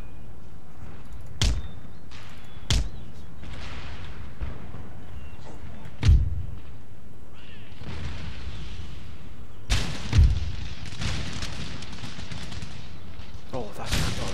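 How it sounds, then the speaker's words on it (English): Mortar and artillery fire in an Empire Total War battle: several sharp, loud booms at irregular intervals, with crackling musket-like volleys and rumbling battle noise underneath throughout. "that mortar there has been an absolute monster"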